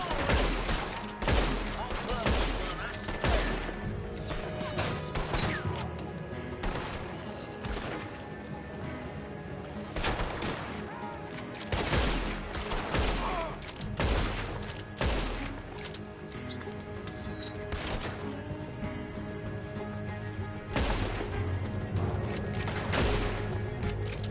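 Dense bursts of gunfire in a PS4 shooter game, volleys and rapid automatic fire overlapping almost without pause for the whole stretch, loud and busy, with in-game sounds layered beneath.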